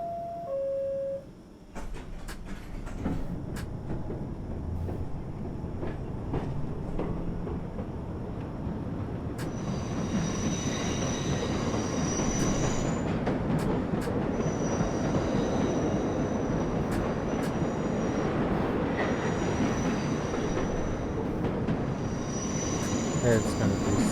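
A New York subway train, the number 7 local in World of Subways 4, runs steadily with a continuous rumble and wheel noise that starts after a brief pause and holds loud and unbroken to the end.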